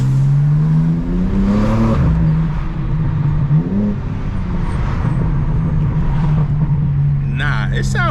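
BMW G82 M4 with a catalyst downpipe and its exhaust valves open, burbling and rising in pitch in short blips before settling into a steady rumble, with talking over it.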